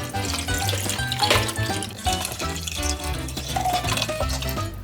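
Water is poured into a cooking pot while preparing a pink-colored dish at home, giving a steady, full splashing pour that runs continuously and fairly loud throughout, with no talking.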